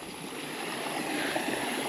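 A small cut-across stream flows through the Circle B Bar Reserve marsh toward Lake Hancock, making a steady, soft rushing trickle that stays even and fairly faint throughout.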